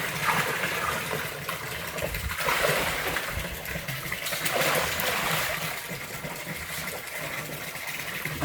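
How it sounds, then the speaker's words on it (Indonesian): Molasses solution poured straight into a biofloc catfish pond, giving a continuous close rush of splashing, trickling water that surges and eases in loudness, with no talk. "Setelah homogen, kita campurkan larutan molase ini ke dalam kolam langsung."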